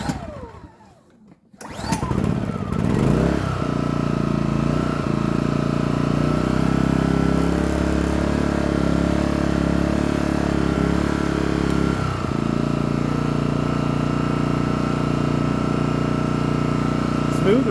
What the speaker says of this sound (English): Smooth running little generator.